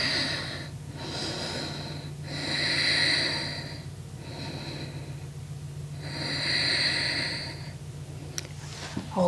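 Slow, steady breathing of a person holding the Chaturanga Dandasana yoga pose, with two long swelling breaths a few seconds apart over a low constant hum, fairly quiet and close, with no talking.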